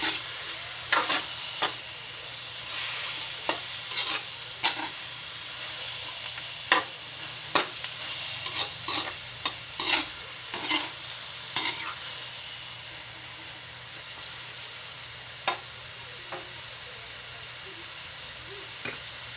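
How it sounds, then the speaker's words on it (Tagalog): Chicken pieces sautéing in a pan for tinola, a steady sizzle of frying with repeated sharp scrapes and clinks of a spatula stirring, close and fairly clear. "Sangkutsa po natin ng maayos. Hanggang sa lumabas po yung kanyang katas."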